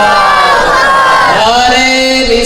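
A crowd at a religious gathering answers the Naara-e-Takbeer call by shouting Allahu Akbar in unison, a loud, dense massed chant that swells and then carries as a sustained collective shout.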